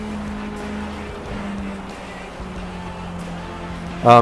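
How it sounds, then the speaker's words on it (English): A car engine in the FlatOut Ultimate Carnage racing game drones and slowly winds down while the car slides through a corner, a steady mid-level hum with a brief louder burst at the end. "You might notice that my engine was going down in that corner."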